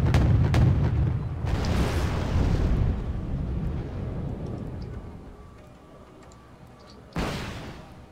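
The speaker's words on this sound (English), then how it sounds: "It's tanks using 50 cals to shoot down helicopters." Heavy booming fire in Wargame: Red Dragon, tanks firing .50 cal machine guns at helicopters, opens loud and rumbling, fades over several seconds, then ends in one more sharp blast.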